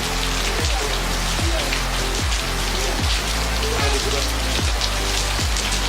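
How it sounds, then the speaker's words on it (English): Spring rain falls in Kathmandu as a dense, continuous hiss of drops hitting surfaces, with recurring low thumps throughout. "Wait Bobo, it's a spring first rain"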